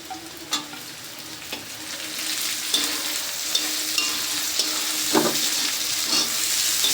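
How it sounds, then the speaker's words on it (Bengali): Onion, garlic and green chilies fry in a pan for a spinach dish, giving a steady close sizzle broken by several sharp scrapes and clacks of stirring. "এখন আমি কেটে রাখা কাঁচামরিচগুলো দিয়ে দিব।"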